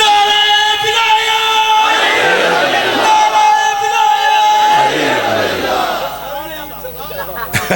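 A large crowd at a poetry gathering in Lahore roars and chants slogans together in loud, swelling shouts, many voices rising and falling before fading into scattered cries.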